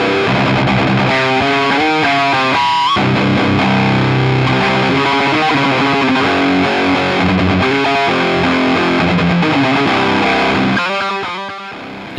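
Heavily distorted electric guitar played through a Diezel VH Micro, a 30-watt solid-state mini amp voiced for rock and metal, loud and close, with chugging palm-muted riffs, sustained chords and a tail fading out at the end.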